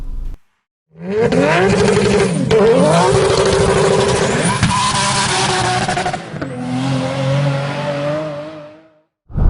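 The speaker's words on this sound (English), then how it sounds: "Let's go for a drive." A Subaru WRX STI engine roars loudly and continuously, revving up and shifting through gears as it accelerates, with a brief pause at the start.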